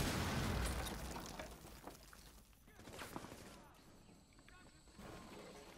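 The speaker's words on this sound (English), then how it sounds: "I'm gonna breach this wall, so. Detonate." In the Terrorist Hunt video game, a breach charge blows through a wall with a loud, close boom at the start that rolls into a long, rumbling decay, followed by scattered debris and softer blasts.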